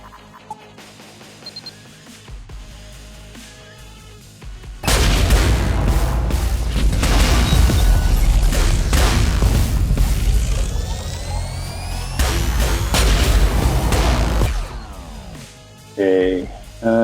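Weapon fire and explosions slam into an enemy ship's weapon systems in the space combat game Trigon: Space Story, a loud sustained barrage of booms and blasts lasting several seconds before easing off.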